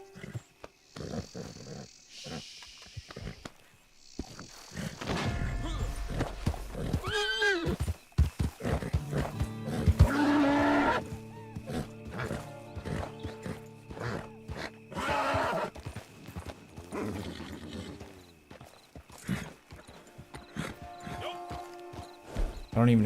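A Kentucky Saddler horse in the Red Dead Online video game whinnies loudly a couple of times between the steady clip-clop of its hooves, with game ambience and occasional talk around it.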